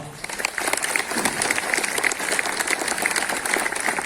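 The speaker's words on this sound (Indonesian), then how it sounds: "Tepuk tangan untuk kita semua." Applause from a crowd at a school flag ceremony for an ASEAN Eco-School award, a steady crackling clapping of many hands heard at moderate distance, continuing evenly throughout.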